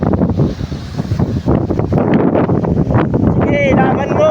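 Strong wind buffets the microphone with loud, continuous roaring gusts outdoors. A voice speaks briefly under the noise.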